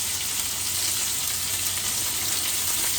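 Cutlets fry in a pan of oil with a dense, even, continuous sizzle held close and loud for the whole stretch, with no talking.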